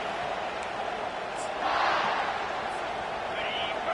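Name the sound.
football stadium crowd cheering loudly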